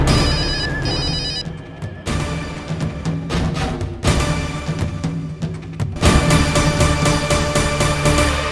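A telephone rings in bursts of bright electronic trilling, loud and close, with short breaks between rings and some background clatter, no voices.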